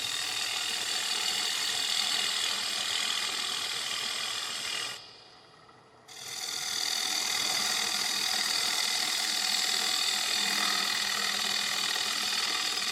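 A gouge on a wood lathe hollows the center of a shallow bowl, a steady, dense scraping hiss that runs continuously, cuts out briefly for about a second, then resumes at the same even level.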